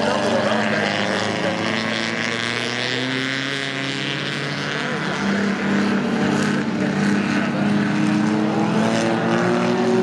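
Front-engined grand prix race cars from 1948 to 1960 racing in a historic event, their engines droning loudly and continuously throughout, with a commentator talking over the noise.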